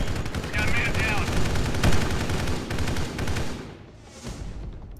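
Gunfire in the video game Arma 3 with a Halo mod, a dense stream of rapid automatic shots and crackling bursts that thins out toward the end, loud and close.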